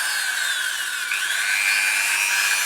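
A Dremel rotary tool fitted with a small barrel sander works on the engine fins of a Kawasaki GPZ500S, giving a close, continuous high-pitched whine with slight pitch shifts as it bears on the metal.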